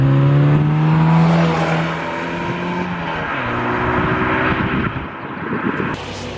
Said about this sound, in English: I opted to go on a goodbye drive for this engine to a car wash